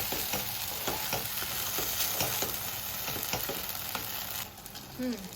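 Steady sizzling in a pan with repeated scraping strokes of a spoon stirring a thick masala paste for stuffed brinjal curry, close up, with no talking.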